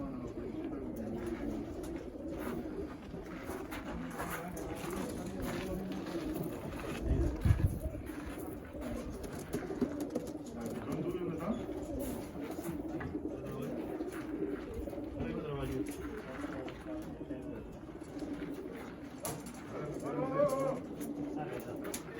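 Racing pigeons coo softly and steadily in a loft or basket on race day, a continuous low murmuring with a brief louder flutter, heard up close with no talking.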